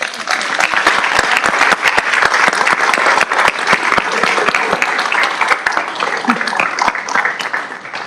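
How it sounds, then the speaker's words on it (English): Sustained applause from a city council meeting audience in Montebello for the Montebello Youth Leadership Club executive board, dense steady clapping filling the room for about eight seconds at a loud, even level. "May I please have a big round of applause for them?"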